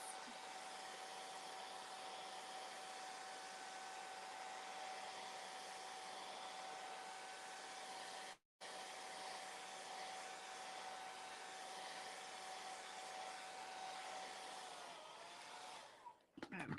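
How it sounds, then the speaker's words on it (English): A hair dryer blowing steadily and loudly to dry freshly applied paint, with a constant whine throughout that cuts off for a split second midway and then resumes. "I'm going to blow dry this"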